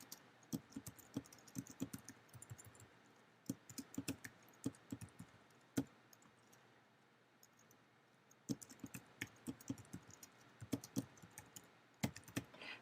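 Computer keyboard typing, bursts of quick close key clicks with short pauses between phrases, quiet and alone.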